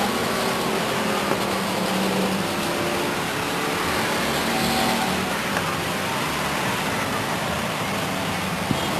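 Race cars in a 1999 enduro at Stockton 99 Speedway roar steadily down the backstretch, a dense continuous engine drone with no pauses, loud and broad across the whole stretch.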